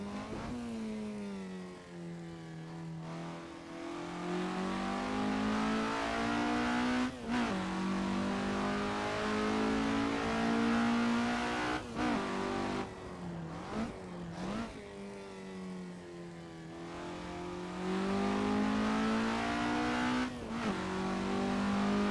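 A 1965 Alfa Romeo GTA laps a 1960s Riviera circuit in the Assetto Corsa racing game. The engine note rises and falls loudly through repeated revving, gear shifts and brief dips, with light tire squeal and no talking.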